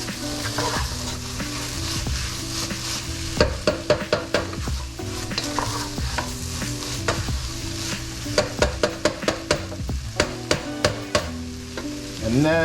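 Shredded chicken stirred in a frying pan with a wooden spoon, a steady close sizzle punctuated by quick runs of scraping knocks and clacks against the pan.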